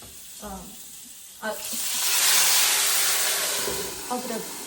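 Steam hisses from hot water spread into a hot pan of pan-fried veggie buns. A loud, broad hiss swells up suddenly, holds for a couple of seconds, then gradually fades back down.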